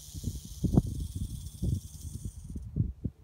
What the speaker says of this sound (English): Right, that's a rattlesnake.